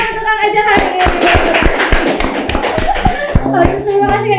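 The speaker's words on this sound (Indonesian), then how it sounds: "sekali lagi tepuk tangan untuk Kang Ejen hari ini" Applause for a guest on an Indonesian talk show, a burst of sharp hand claps from a small group, close and fairly loud, with a talking voice and a voice mixed in over the clapping.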